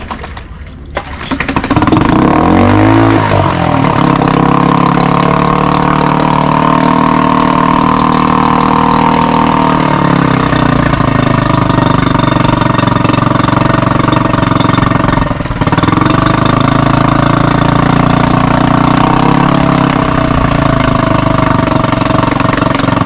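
A boat engine on a pontoon boat, hooked to an engine flushing system, starts up and runs loud and close, a steady droning idle with a slight shift in pitch partway through and no talk.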